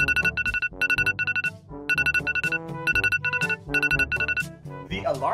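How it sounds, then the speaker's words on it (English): A repeating electronic ringtone melody plays loudly in bursts, with a brief pause between phrases, sounding like a phone-style alarm going off. "Alarm clock's ringing."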